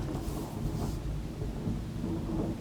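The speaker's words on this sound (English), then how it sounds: "can you hear that thunder?" Thunder rolls during a storm, a continuous deep rumble mixed with the hiss of falling rain, moderately loud and steady throughout with no voices.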